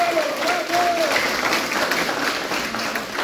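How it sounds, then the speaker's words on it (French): Sustained applause from a crowd at a political campaign rally honouring volunteers, dense steady clapping throughout with a brief whistle-like tone near the start. "place maintenant à des applaudissements appuyés pour tout ce monde de bénévoles"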